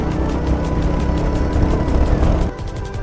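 A 2022 Royal Enfield Hunter 350 being ridden through city traffic, its engine giving a steady, pulsing thump with a broad wind-and-road roar close to the rider, easing off slightly near the end; no speech.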